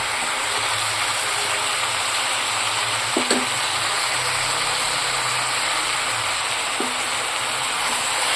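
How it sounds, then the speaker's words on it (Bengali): Malabar spinach (pui shak) and vegetables fry in a little mustard oil with a steady, broad sizzle. A couple of faint clinks from stirring are heard partway through. "তো পুঁই শাকটা আমি ভালো করে নাড়াচাড়া করে এটাকেও আমি একটু ভেজে নেব।"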